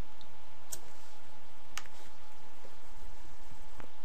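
A few sharp computer mouse clicks spaced apart, crisp and close in a quiet room, with no talking.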